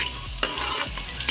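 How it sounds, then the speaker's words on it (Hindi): Capsicum fries in hot oil, giving a bright continuous sizzle broken by spatula strokes and scraping stirs, heard close up. "शिमला मिर्च को थोड़ा हम फ्राई करेंगे"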